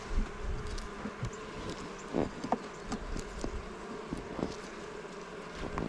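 Honeybees buzz around beehive frames holding nectar and pollen, a soft, close hum with individual bees droning past now and then amid faint rustling, quiet and with no talk.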